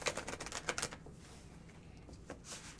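A tarot card deck is shuffled in a few quick bursts of riffling and tapping clicks, loudest at the start, then a quieter pause before another short flurry near the end.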